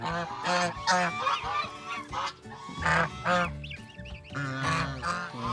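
Geese honk repeatedly in loud, overlapping bursts, several birds calling close by with nasal, irregular cries.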